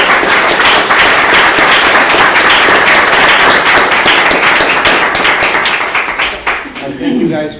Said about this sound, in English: I want to give our panelists a big round of applause.